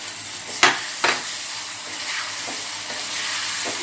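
Ground tamarind chutney cooking in hot oil after a curry-leaf tempering, a steady bright sizzle close by with a couple of scraping stirs near the start.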